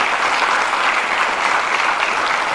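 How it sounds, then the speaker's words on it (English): Audience applause at a Hall of Fame induction event, loud and sustained clapping from a large crowd, a dense unbroken roar of hands with no voices standing out. "Give yourself a round of applause."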